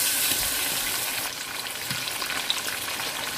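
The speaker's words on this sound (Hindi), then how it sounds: "अब हम इसमें लहसुन अदरक डाल लेंगे और उसको भून लेंगे थोड़ा सा।" Garlic, ginger and mutton frying in a pot, giving a steady, loud, close sizzle that stays continuous throughout and eases slightly partway, with occasional faint stirring ticks.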